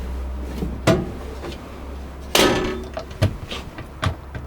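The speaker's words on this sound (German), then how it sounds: "Oben drüber habe ich Schränke. Mach mal auf, bitte." Caravan overhead cupboard doors open with a few sharp wooden knocks and thuds, close by in a quiet room, inside a Dethleffs Professional Exklusiv 760 FR.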